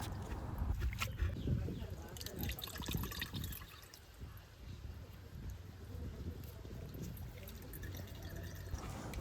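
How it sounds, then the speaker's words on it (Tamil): A homemade liquid herbal pest repellent is strained, giving a faint, close trickle and dribble of liquid with soft drips and light handling noises throughout. "ஓகே நாம் எல்லாத்தையும் வடிவாக வடித்து எடுத்துட்டோம்"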